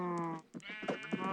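Sheep on a video-game farm bleat in a quick run of wavering, nasal calls, close and clear with no talk over them.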